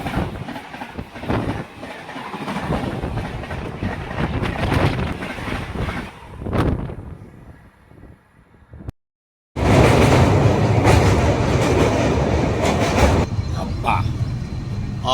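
A long-distance Rameswaram to Okha passenger train runs along the rails, with a loud, steady rumble and clickety-clack, wind buffeting the microphone, a brief dropout partway through, and the roar resuming just as strongly.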